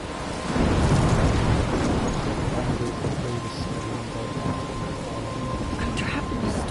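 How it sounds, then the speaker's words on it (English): A thunderstorm in a video game rumbles with a loud roll of thunder over steady, heavy rain pattering on surfaces, the downpour continuing evenly after the thunder fades. "I'm trapped in a storm."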